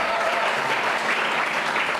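A church congregation applauds the Lord, a dense, steady wall of clapping that holds evenly throughout with no clear voice rising above it.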